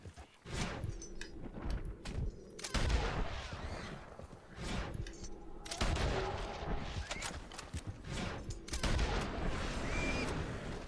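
Gunfire from a Red Dead Redemption 2 hunt of the legendary white boar, several loud booming shots in bursts over a busy game soundscape, with brief talk at points.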